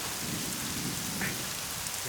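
Heavy rain pours steadily in a dense, constant wash, with low rumbling underneath suggesting distant thunder during a storm at night; no voices are heard.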